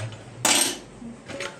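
A metal lid set down on a pot of Friday fish curry in a village grandmother's kitchen gives one bright clattering clang that rings briefly and fades, followed by a softer knock a moment later.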